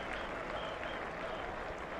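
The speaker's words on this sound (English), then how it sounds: "He's getting a round of applause going down to fine leg." Crowd applause at a Trent Bridge England v Zimbabwe Test match as spinner Shoaib Bashir walks to fine leg, a steady distant wash of clapping from the stands throughout.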